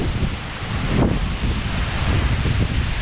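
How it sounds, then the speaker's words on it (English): Strong gusts of roughly 50 mph from a weakened hurricane roar steadily, buffeting the microphone with a broad rushing noise that swells and eases, loud and close, with no voices. "50-mile-per-hour wind gusts moving through right now!"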